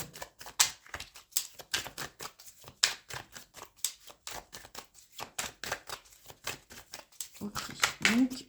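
Tarot cards are shuffled and riffled by hand, a rapid run of crisp papery flicks and taps that goes on steadily, with someone speaking French over it.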